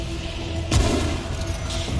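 A sniper headshot rings out in the video game Remnant: From the Ashes, one loud booming shot with a rumbling tail over continuous game background sound.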